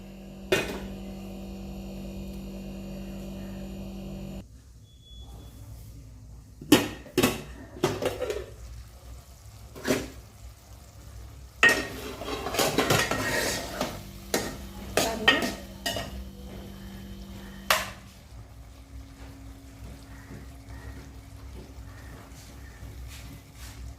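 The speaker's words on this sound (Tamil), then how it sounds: "இப்போ நம்ம முட்டை உடச்சி ஊற்றி நல்லா கிளறி இதை இறக்கணும்" A utensil scrapes and clatters in a pan as okra thokku with broken egg is stirred, producing irregular close metallic knocks and scraping strokes over a low sizzle, with a brief hum at the start.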